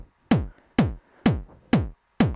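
Five evenly spaced kick hits from a WMD Crater drum synthesizer with the click level turned up, each a punchy click with a short, snappy, almost snare-like decay, clean and close with silence between.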